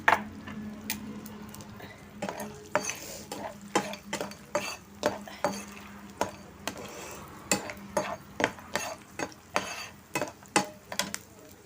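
Edible gum frying in ghee for winter methi laddoos, with a utensil scraping and clicking against the pan in a steady series of sharp taps over a faint sizzle, close and fairly quiet.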